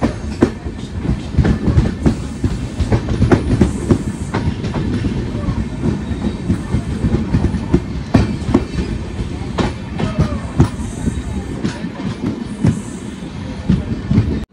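A Konkan Railway LHB passenger train pulls into Gokarna Road station at platform 1 in the evening, with steady loud rumble and rhythmic clickety-clack of wheels over rail joints, and occasional faint metallic squeals throughout.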